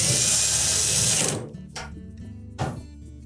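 A power driver whirs steadily as screws are run in to secure a Samsung dryer panel, then cuts off, leaving a couple of brief ratcheting bursts and clicks in a quieter room.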